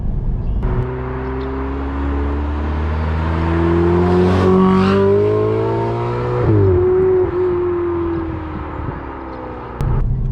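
The turbocharged V8 of a Ferrari 488 Spider pulls hard on the road, its deep, throaty note climbing through gears with a shift partway through, loud and close from inside the car, with no talking.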